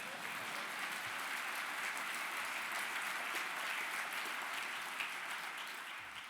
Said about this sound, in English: you could applaud that, that's all right.